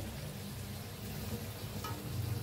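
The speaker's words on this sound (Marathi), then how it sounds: "तर चला आता फ्राय करून घेऊया सगळा तरी." Methi paratha sizzles in a pan over a medium gas flame, a steady close hiss of frying oil that runs throughout without pause.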